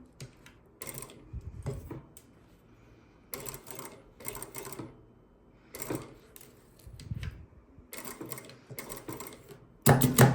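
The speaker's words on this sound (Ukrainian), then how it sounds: "Прострочуємо закріпочками." Sewing machine running in short stitching bursts along a dress hem with backstitches, separated by brief pauses and handling clatter, close and moderately loud, with a sharper knock at the end.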